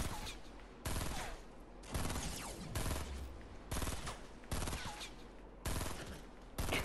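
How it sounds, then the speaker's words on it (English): Gunfire in the video game Fortnite comes as repeated bursts of rapid automatic shots, loud and close, in clusters of about a second each with brief gaps between them. "There's someone else shooting at me."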